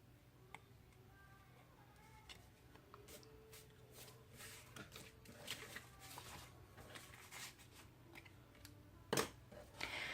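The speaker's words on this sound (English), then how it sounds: "So I'm going to cut this out and I will be back." Scissors fussy-cut a small paper piece for a card, giving soft, scattered snips and paper rustles at close range, faint and without talk.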